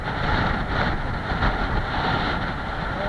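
Strong wind roars steadily across the microphone during a bicycle ride, a dense, buffeting rush with no pauses, loud and close throughout.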